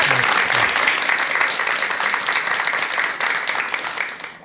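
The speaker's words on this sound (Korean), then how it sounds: "자, 그럼 여러분 큰 박수와 함께 전윤수 박사님의 강의 들어보도록 하겠습니다" A lecture audience breaks into dense, even applause that fills the room with sustained clapping and tapers slightly toward the end, welcoming a speaker.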